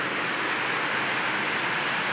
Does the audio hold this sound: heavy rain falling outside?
yes